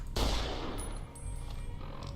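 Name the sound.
modded game rifle gunshots in Fallout: New Vegas video game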